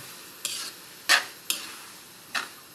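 Ground pork with seasoning granules stirred in a pan: four separate scraping strokes, each a short bright swish that fades, spaced irregularly under a faint background sizzle.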